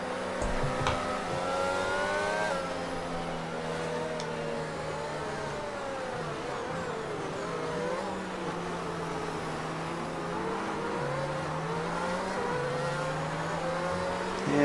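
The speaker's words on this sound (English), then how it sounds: "Darcy Cudmore, and Ivan Reynolds, the other cars on the track." Formula 1 cars race around Suzuka at the Japanese Grand Prix in an F1 racing video game, their engines whining at high revs with rising and falling pitch as gears change, a steady, continuous drone with no talk.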